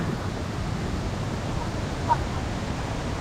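A strong waterfall in Nakhon Nayok, Thailand, with heavy fast-flowing water, heard as a dense, steady, close-up rush of broadband noise that stays loud and unbroken throughout.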